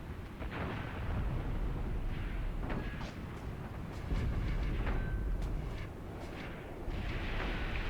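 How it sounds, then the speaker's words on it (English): German heavy machine guns fire in Graviteam Tactics as a dull, distant battlefield rumble of bursts and booms, steady and low rather than sharp, with no voices. "So back there we have heavy machine guns shooting from the German side"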